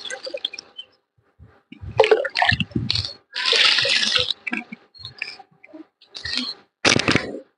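Water is poured onto potted garden plants in irregular bursts of splashing and trickling, some brief and some lasting a second or more, separated by near silence, close by.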